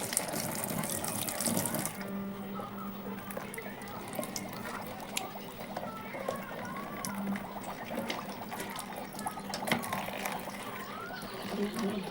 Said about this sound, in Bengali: পাতাগুলোকে এবার ভালো করে ধোবো